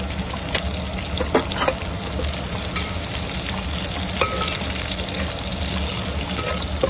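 Green chillies and curry leaves frying in hot oil in a pan for an Andhra-style fish curry, a steady crackling sizzle with occasional stirring clatter, close and continuous with no talk.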